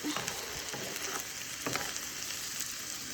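Food sizzles in a pan with a soft, even frying hiss, broken now and then by light scrapes as it is pushed toward the middle, heard faintly and at a distance.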